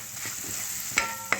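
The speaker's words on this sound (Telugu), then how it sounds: "ఈ పోపులో ఈ పచ్చిమిరపకాయలతో ఈ ఉల్లిపాయలు బాగా వేగాలి" Onions and green chillies fry in a tempering of hot oil, a steady close sizzle with two sharp stirring clinks near the end.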